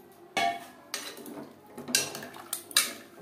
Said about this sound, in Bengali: আলু বেশ ভালো করে গ্রেভির সাথে মিক্সড করে দেবো।